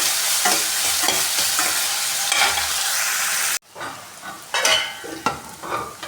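A spoon stirs a hot pan of cumin, garlic, onion and ginger for mixed dal, with a loud continuous sizzle. After an abrupt cut comes a quieter, patchy hiss broken by scraping stir strokes.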